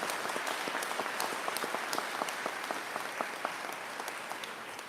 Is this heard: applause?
yes